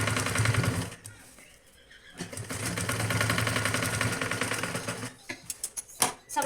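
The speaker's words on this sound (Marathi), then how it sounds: "मारून दाखवते बघा, अशी अशी इथे आता शिलाई मारून घ्यायची" A sewing machine stitches a jute sack into a travel bag with a steady, loud mechanical whir. It pauses briefly, then resumes and ends in a few sharp clicks.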